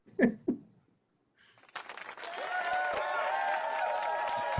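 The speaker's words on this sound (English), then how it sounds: "You get it again. The high budget applause." An applause sound effect swells up after two brief voice sounds, a steady crowd clapping wash that holds at moderate level to the end.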